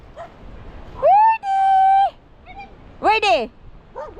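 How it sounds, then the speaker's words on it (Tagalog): A dog whines and yelps in several short, rising cries, fairly close, while people nearby call out and talk. "Marinig siya na aso doon."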